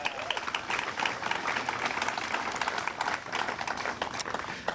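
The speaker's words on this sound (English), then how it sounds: "Give that a great round of applause." Steady, dense applause from an outdoor crowd at a Memorial Day parade and military ceremony in Elmhurst, sustained and fairly loud throughout with no speech over it.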